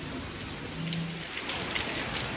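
Steady rain pattering down outdoors around a 1969 Chevrolet C10 pickup, a continuous broadband hiss of drops on surfaces with no voices.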